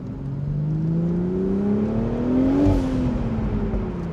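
A car driven in manual mode accelerates with a rising engine whine and pulls through a shift near the end, with faint crackles from the exhaust under the steady engine drone.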